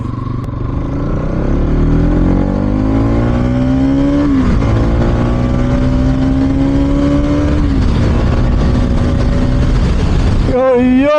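A Bajaj NS200 motorcycle accelerating hard on the road, its engine note climbing steeply through successive gears with brief drops at each shift, loud and close with wind rush throughout.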